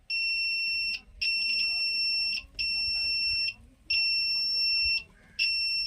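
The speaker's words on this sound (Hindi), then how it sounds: "ये लाइट जल रहा है और बीप की आवाज आ रहा है।" An e-rickshaw controller tester device emits long, loud, high-pitched beeps in a repeating pattern, about five tones separated by brief gaps, with faint background noise beneath.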